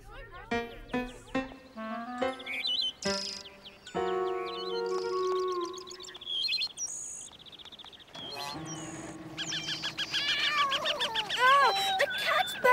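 A cartoon cat meows in an animated children's show, its voice rising over busy musical cues and short sound effects near the end, with bursts of melody and chimes throughout.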